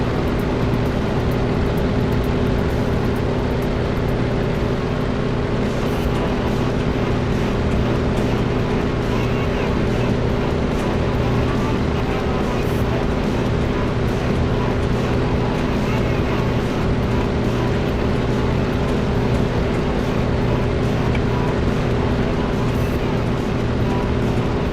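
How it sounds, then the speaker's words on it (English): Piston aircraft engines in a flight combat video game drone loudly and steadily throughout, a constant, unvarying hum with strong low tonal layers and no breaks. "These engines are loud."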